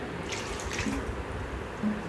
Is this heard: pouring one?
yes